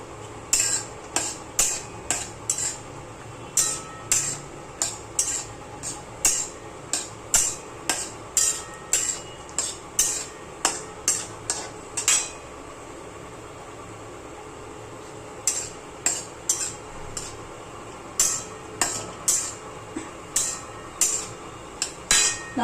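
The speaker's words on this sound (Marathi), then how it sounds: "ब्राऊन कलर होईपर्यंत भाजायचे." Cashews are stirred in a pan and roasted until brown, a utensil striking and scraping the metal in quick, irregular taps with a short pause midway, over a low constant hiss and no speech.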